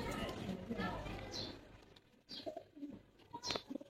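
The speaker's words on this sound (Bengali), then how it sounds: "আমার নারিন্দা লফটে উড়ানো কবুতর" Pigeons at a Narinda loft give soft cooing calls amid continuous background noise, with people talking nearby throughout.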